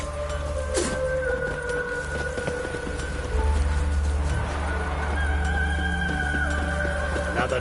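A horse in The Witcher 3 neighs loudly and repeatedly over steady clip-clopping hooves, with faint birdsong in the background.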